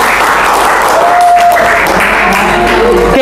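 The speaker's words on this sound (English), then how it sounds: "Okay, to give applause for you all." A high school speaking class applauds after a student discussion, loud steady clapping from a crowd of students close by for about three seconds.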